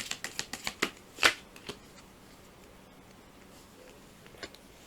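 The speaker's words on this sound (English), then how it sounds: "Let me pull out one last card." Tarot cards give a quick run of crisp, close flicks as one is drawn from the deck, followed by a brief slide and a few faint ticks before it goes quiet.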